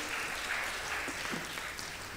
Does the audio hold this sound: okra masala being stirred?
no